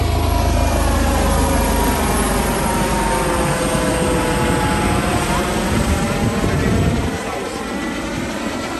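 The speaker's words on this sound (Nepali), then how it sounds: "यसरी साइड सिन गर्ने हेलिकप्टरहरूबाट यसरी" A sightseeing helicopter's steady engine and rotor drone fills the clip at Atlantic City Beach, New Jersey, loud and close, dropping slightly in level near the end.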